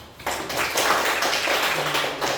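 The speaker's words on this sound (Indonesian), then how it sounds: "Oke, tepuk tangan untuk Anda." Classroom applause during a biology lesson, a burst of students clapping that starts abruptly, stays fairly dense and uneven, then begins tapering off.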